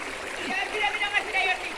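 Running water trickles and splashes steadily, a soft continuous flow heard at moderate distance with faint background noise.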